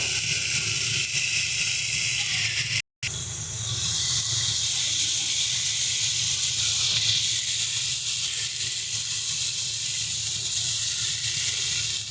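Fried pointed gourds hit a hot pan of masala with a loud, steady hiss and sizzle, cut by a brief dropout, then a continuous close frying hiss, with no talking.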